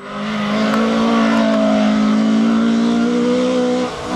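The engine of a rally car at the Algoa Rally 2024 holds a loud, steady, sustained drone for about four seconds, close and prominent, easing off right at the end with no talking.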